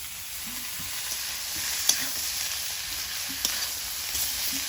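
Green tomatoes and slit green chilies sizzle steadily in a hot pan, a constant frying hiss with a couple of soft clinks from stirring.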